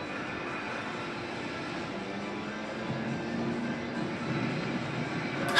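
Aircraft take off for an air attack in the Kantai Collection arcade game, a steady mid-level engine drone with a faint rising whine, heard alone.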